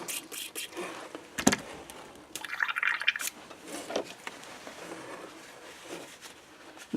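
Water is rinsed through an airbrush during a quick cleanup. Faint, brief bursts of splashing and dripping come in an irregular rhythm against quiet room background.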